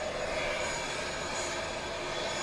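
An Eastern Airways airliner's engines run nearby at London Southend Airport, a loud, steady broadband roar with a constant whine, unbroken and without talk.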